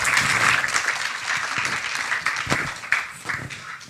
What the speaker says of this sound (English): Please give them a warm little round of applause.